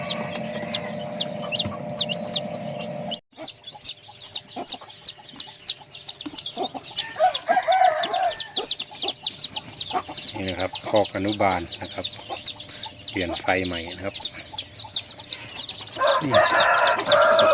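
Chickens cluck in a chick nursery pen as a steady stream of high, rapid peeping runs throughout, with lower clucks breaking in, while someone talks over them.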